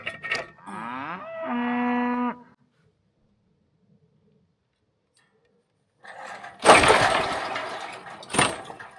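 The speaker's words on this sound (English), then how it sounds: "These cows." A cow lets out a long, drawn-out moo nearby, then silence, followed by loud thuds and crackling noises.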